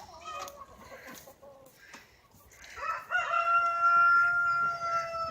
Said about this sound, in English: There's the chicken, guys.